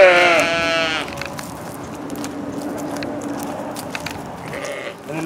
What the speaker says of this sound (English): these are the breeding sheep and the ram.